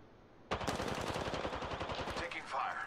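Rapid automatic gunfire from Apex Legends, a burst of closely spaced shots starting abruptly and running steadily for about two seconds, loud and near, with game sounds continuing after.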